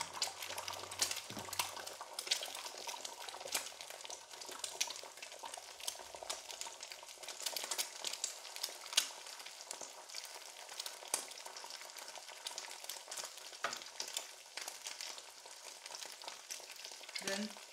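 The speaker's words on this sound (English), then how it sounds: "Now we are going to pour our oil into the fry pan. Transfer the egg and the cheese now into my fry pan" Egg and cheese frying in oil in a fry pan, a continuous crackling sizzle with scattered pops and spits, faint and close, running unbroken throughout.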